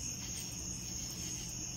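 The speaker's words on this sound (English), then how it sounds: "You could hear the cicadas and the crickets." Crickets and cicadas keep up a continuous high, steady chirring deep into the night, a dense even insect chorus with no voices over it.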